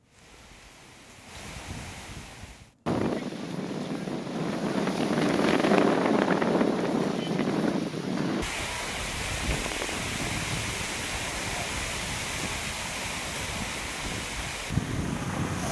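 Strong, roaring cyclone wind blows steadily and loudly in coastal Andhra Pradesh, with a rushing, surf-like noise that swells after a brief dropout and then settles into a constant howl.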